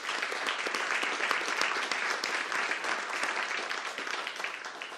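Steady, dense applause fills an awards ceremony hall as an audience claps continuously at an even level for several seconds, with no voices over it.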